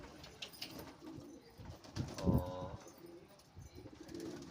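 Pigeons coo softly, among them a red bird and a khera patta pigeon kept for pigeon flying, with low throaty coos rising in a burst near the middle over faint background noise and a brief spoken word.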